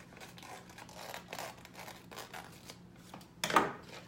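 Scissors snipping through a Dollar Store place mat, a few soft close cuts and rustles ending in one sharper, louder snip.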